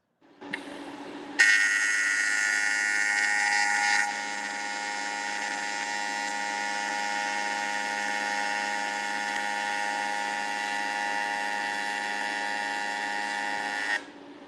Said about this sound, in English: So we're TIG welding.